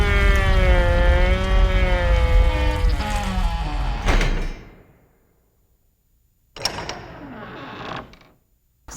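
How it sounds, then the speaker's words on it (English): A layered door sound effect for an animated VeggieTales film: a long groaning, tonal creak that slides and wavers, then a rumbling thud as the door settles, followed after a silence by another shorter creaking scrape. "So all of those sounds comprise up that one door element."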